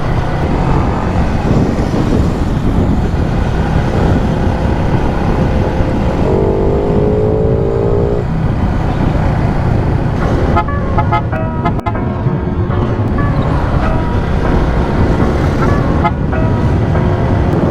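Loud, steady road traffic roars throughout, a dense rumble of engines from cars and motorbikes, with a brief car horn toot partway through and no talking.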